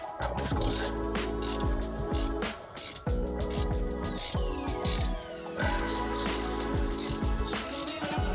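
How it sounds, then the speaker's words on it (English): Metal ratchet clicks loudly and steadily, close by, while a boat's shaft seal fitting is unscrewed during a shaft seal change done in the water. The rhythmic clicking comes in bursts with brief pauses and no talking. "Unscrewing this, let's see how this goes."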